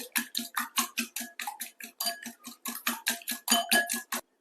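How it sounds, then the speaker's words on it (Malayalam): Eggs beaten with a whisk in a bowl for caramel pudding, a rapid, steady series of about twenty sharp metallic clinks and scrapes close by, with no talk over it. "ഒരു വിസ്ക് വെച്ച് നമുക്ക് നല്ലോണം ഒന്ന് മിക്സ് ചെയ്ത് കൊടുക്കാം"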